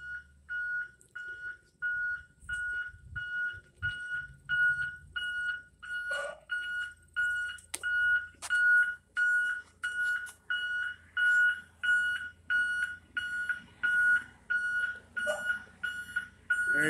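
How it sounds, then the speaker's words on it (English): A school bus sounds loud warning beeps, a steady series of regularly spaced electronic pulses repeating close by, with faint scattered background noises in between. "Oh, there comes that loud beeping."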